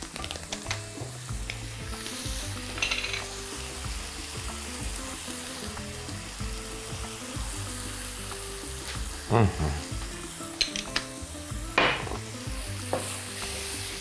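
Sliced mushrooms fry in a pan with garlic powder and lemon, giving a steady close sizzle with scraping stirs and a few sharper clatters of the utensil against the pan.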